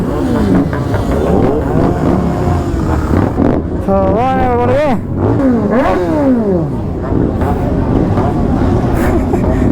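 A superbike revs repeatedly at a college fest, loud rising and falling engine roars close to the microphone, with wind buffeting and voices of a crowd around it.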